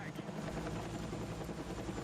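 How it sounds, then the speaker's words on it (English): A helicopter thrums with a steady, moderately loud rotor chop in a first-person shooter video game, under faint background game noise. "Helicopter, there's that"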